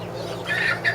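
Young laying hens on a small Ohio farm flock give a couple of quick soft clucks close by, brief and moderately faint over a low background.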